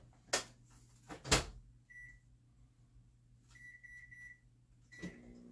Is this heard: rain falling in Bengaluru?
no